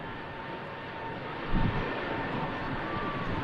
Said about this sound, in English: Slowly adding in that thrust there.